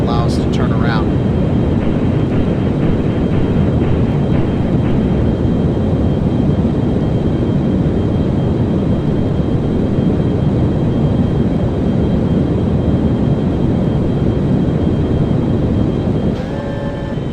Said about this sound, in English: What I'm actually going to do now is activate the retros.